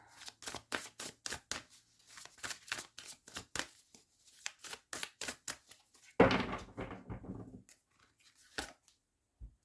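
Tarot cards are shuffled and drawn in quick riffling bursts, a rapid run of crisp snaps followed by a louder flurry of handling and a few scattered flicks, close and fairly quiet.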